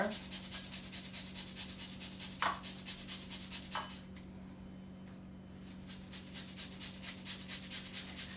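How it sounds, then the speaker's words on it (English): A lemon is zested on a grater for ricotta pie, with a soft close rubbing rasp pulsing in quick regular strokes over a steady low hum, pausing briefly midway. "So now I'm going to zest the lemon."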